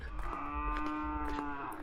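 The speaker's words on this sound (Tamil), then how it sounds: "மாடு கத்துது" A cow near a cattle shed in the Kodaikanal hills gives one long, steady moo, close and clear over faint outdoor background noise.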